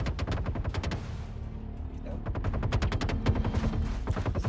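Sustained gunfire in the Star Citizen video game in the lawless Pyro system: rapid automatic bursts hammer steadily with a short pause, loud and close.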